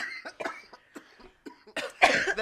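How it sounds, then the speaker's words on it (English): Loud, harsh coughing bursts from people smoking, several coughs in an uneven run that builds to a heavy, rasping fit at the end, close to the listener. "y'all go hear loud coughing because we smoking."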